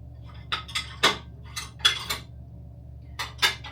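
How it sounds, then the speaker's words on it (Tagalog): Dishes are washed by hand at a home sink: metal cutlery and pans clink and clatter in a string of sharp, bright hits with short pauses between them, over a low steady hum. "Maghuhugas na ako ng pinggan."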